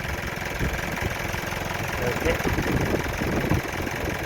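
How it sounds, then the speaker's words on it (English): A fully warmed-up Mitsubishi Outlander DI-D MIVEC diesel engine idles steadily at close range with a low, even rumble, and a voice speaks briefly over it. "make sure that the engine is idle and the car is fully warmed up"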